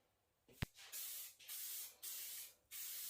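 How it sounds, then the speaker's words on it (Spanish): A paint spray gun fires a series of short test bursts before a car bumper is painted, giving four hissing blasts separated by brief gaps and a sharp click near the start, close and fairly loud. "lo que vendría a ser verificar si el spray va bien"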